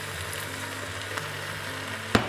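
Browning meat sizzling in a pot after red wine is poured in, a steady soft crackle and hiss with a couple of faint clinks.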